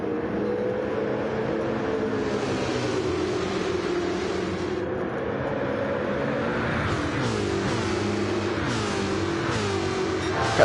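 Race cars in the NFRL Longhorn 150 at Oshkosh roar steadily past, engines droning and pitch sweeping as several machines zoom by in succession, loud and continuous throughout with no talking.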